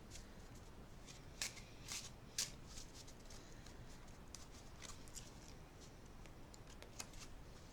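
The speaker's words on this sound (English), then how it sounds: "Let me shuffle these a little bit." A deck of playing cards, including a Joker, shuffled by hand close up, with quiet riffling and a few sharp snaps of cards bridging together, faint and alone.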